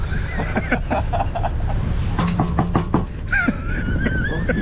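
Rapid bursts of knocking on an iron door at a campsite, sharp metallic raps in quick clusters, close and loud, with a voice calling out between them.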